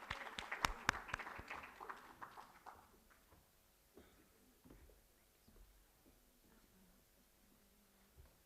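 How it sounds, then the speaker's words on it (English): Audience applause at a summit gift presentation: a dense burst of clapping fills the first couple of seconds, then thins into scattered, fading claps over a quiet room. "Another round of applause for..."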